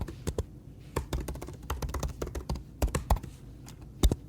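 A password is typed on a computer keyboard, giving irregular bursts of sharp, close key taps with brief pauses between clusters and no speech.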